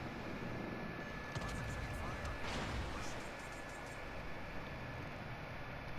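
Naval gunfire from a Tirpitz battleship in World of Warships Legends on PS4: a heavy, steady roar of booming noise with a couple of sharper blasts, while someone talks over it.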